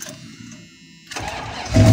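A 1989 Dodge Ramcharger engine cranks and catches, rising from a quieter starter whir into a louder, steady running rumble close by, with no talking.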